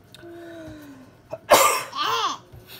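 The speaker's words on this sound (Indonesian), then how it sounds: "Aduh, batuk." A single harsh cough bursts out after a quiet stretch, followed by a short throaty follow-up sound, close to the listener.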